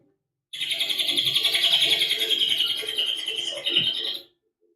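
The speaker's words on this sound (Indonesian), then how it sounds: "Misalnya di sini suara burung." Birds chirp and twitter in a dense, continuous chorus of high, rapid calls for several seconds, fairly close, then stop abruptly.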